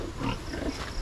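A pig grunts and squeals briefly at close range on a small rural farm, a short burst of rough, nasal vocal sounds.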